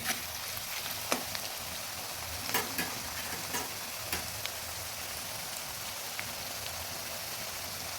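Sugar caramelizing in a pan of oil for a country chicken and papaya curry, giving a steady, even, rain-like sizzle with a few faint stirring clicks, close and continuous.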